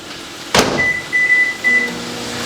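A microwave oven heating a covered dish of beans starts with a sharp click, then a low electrical hum with a thin whine that wavers and continues steadily.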